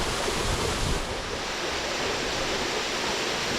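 A small creek in Hells Canyon pours and splashes steadily close by, a dense, even rush of flowing water filling the whole moment without pause.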